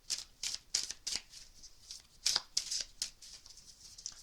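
Tarot cards are shuffled by hand in quick bursts of crisp riffling and slapping, close and fairly quiet, with short pauses between bursts.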